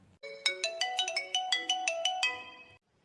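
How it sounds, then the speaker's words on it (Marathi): A mobile phone ringtone plays alone, a bright, loud electronic melody of quick repeated notes lasting a few seconds before cutting off. "कोणाचा फोन आहे का नू?"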